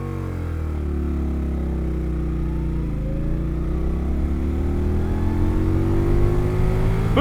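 A 2019 Indian Scout Sixty motorcycle launches in second gear, its engine holding a loud, steady, close drone that climbs gradually in pitch as the bike pulls away, with no talk over it.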